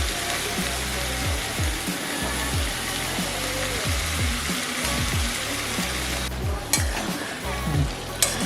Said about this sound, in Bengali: দেখো আমি কষিয়েছি,